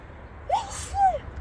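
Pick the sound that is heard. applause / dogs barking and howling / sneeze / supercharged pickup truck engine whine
sneeze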